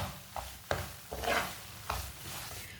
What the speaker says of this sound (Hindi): सूजी को चम्मच चलाते हुए पकाना, चम्मच को छोड़ना नहीं है